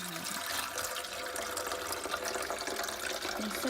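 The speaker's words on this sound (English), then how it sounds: "Okay, so we added more water" Water pours steadily into a container for an underwater volcano experiment, a continuous close splashing and filling sound with no talk.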